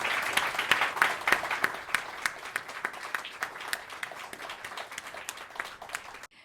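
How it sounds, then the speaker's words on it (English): Applause from a small audience at a poetry reading celebration. The clapping is distinct but thin and sparse, with individual claps audible, strongest at first and gradually tapering off before cutting out. "let's have a round of applause for all of our"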